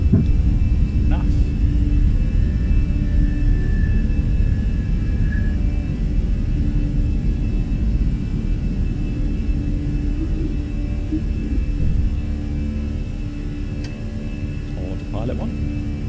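A Fenix A320 airliner takes off from Frankfurt in Microsoft Flight Simulator, its jet engines a steady, loud, deep roar that holds throughout, with a voice speaking over it at times.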